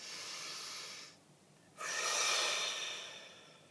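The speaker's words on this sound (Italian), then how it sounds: "facciamo un bel respiro profondo per sciamanizzare" Two slow, deep breaths, a long inhale and exhale with a short pause between, close and fairly soft, with no talking.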